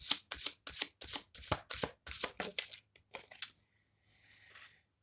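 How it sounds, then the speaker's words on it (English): Tarot cards pulled and shuffled from a deck: a rapid series of crisp slapping and riffling snaps, close and loud, followed by a pause and a softer sliding rustle. "I'm going to pull a few more cards."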